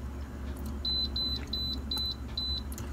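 An air fryer sounds a run of five short, high electronic beeps in quick succession as it is set to 350 degrees and 15 minutes, clear over a low background hum.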